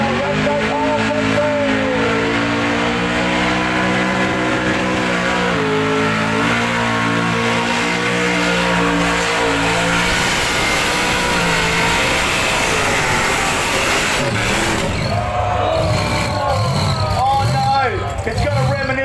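An iron block 6 litre ute doing a burnout at the Summernats car festival revs hard and loud, with repeated rising and falling throttle stabs and engine roar that later becomes rougher with tyre noise.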